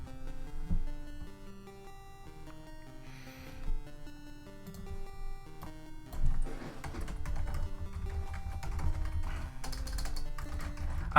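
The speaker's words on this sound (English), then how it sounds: "My typing is even deteriorating." Typing on a computer keyboard during a livestream, clusters of quick key clicks at close range, sparse at first then denser, with faint background tones.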